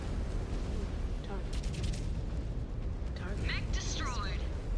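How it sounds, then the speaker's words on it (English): A mech explodes in MechWarrior 5: Clans, a continuous low rumbling blast under game noise, with a voice speaking over it. "Mech destroyed."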